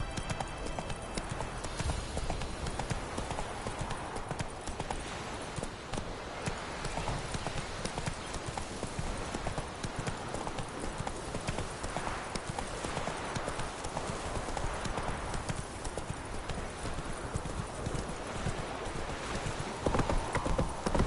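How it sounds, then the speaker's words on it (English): Horse hooves clip-clop steadily throughout while riding in The Witcher 3: Wild Hunt, a continuous rhythmic gait over outdoor game ambience with a faint voice now and then. "Whoa there, Roach."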